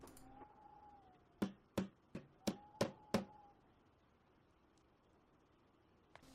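Six sharp hammer knocks land in quick succession, fairly close and evenly spaced, after a faint tone, then quiet, as a hammer pulls a cabinet off a wall in the survival video game Project Zomboid.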